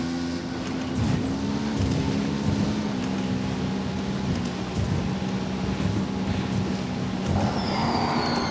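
A motorbike in the video game Ghost Recon Wildlands roars along with a loud, steady engine drone that holds for the whole stretch, with no pauses or voices.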